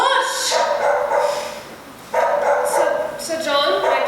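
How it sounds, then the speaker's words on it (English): Dogs bark and yap on stage during a school drama production of Sense and Sensibility, a few excited bursts sounding close and loud, mixed in with actors speaking over them. "Excuse these dogs. They get over excited."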